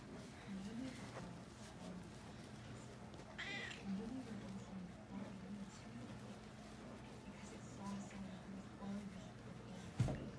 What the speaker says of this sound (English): You gotta be nice to the kitty kitty.